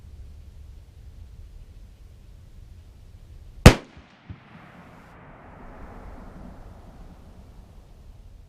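A single sharp gunshot at a public shooting range in Florida, loud and close, with a short echo rolling off afterward and a quieter knock just after, set against steady outdoor background noise.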